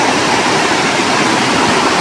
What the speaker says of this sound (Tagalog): Ayan na yung, ito na ang sitwasyon ng ilog namin